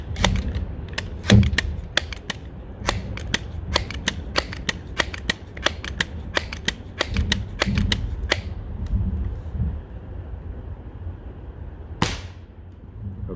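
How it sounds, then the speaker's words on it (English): Sharp unsuppressed shots from a Crosman pump airgun ring out as repeated loud, crisp cracks, with a final isolated report near the end; no talking. "Let's start by removing the suppressor, and we'll shoot 3 shots."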